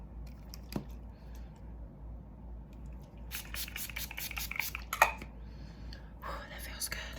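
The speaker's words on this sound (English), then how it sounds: "I am going to spray my face." A face mist is sprayed in quick bursts during a makeup routine, a rapid run of short hissing spritzes followed by a longer spray, close and fairly quiet over a low room hum.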